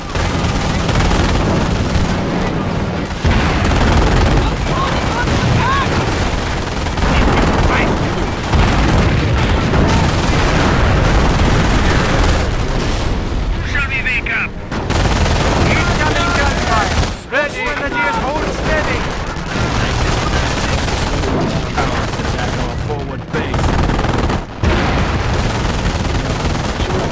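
Gunfire rattles almost nonstop during a German assault in the Company of Heroes strategy game: machine-gun fusillades, single shots and booming explosions stacked densely and loud. Brief voices cut through the battle.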